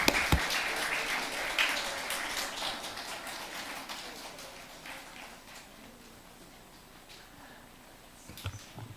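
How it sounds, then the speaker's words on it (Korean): Church congregation applauding after a children's praise song at a Sunday worship service, a dense broadband patter that starts fairly loud and slowly thins out over several seconds, with a brief swell near the end. "우리 다시 한번 뜨겁게 박수로 예 축복합시다."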